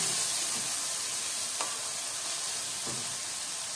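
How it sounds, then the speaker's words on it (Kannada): Garlic, ginger and grated coconut roast for a chana masala gravy, giving a steady, close sizzle with two brief scrapes of a stirring spoon against the pan. "ಅದಕ್ಕೋಸ್ಕರ ಸ್ವಲ್ಪ ಕೊಬ್ಬರಿನ ಈ ಥರ ಹುರ್ಕೊಳ್ಳೋಣ."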